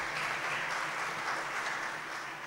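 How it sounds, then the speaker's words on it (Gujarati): An audience applauds at a spiritual gathering, a brief burst of dense clapping heard at moderate distance and fading slightly toward the end. "આપણે તાળીઓથી વધાવીએ"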